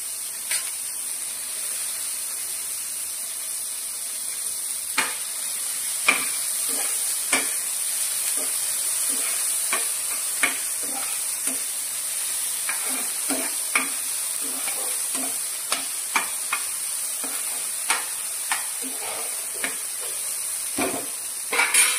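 Onion and tomato stir-frying in a little oil in a pan for beetroot pulao, a steady sizzle with repeated light scrapes and stirring taps spaced every second or so, close and alone.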